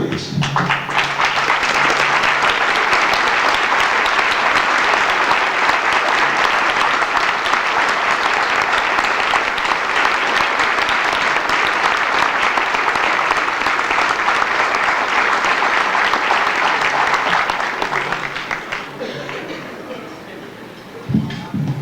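An audience in a hospital gathering breaks into sustained, dense applause for standing staff, steady and full for nearly twenty seconds before thinning out at the end.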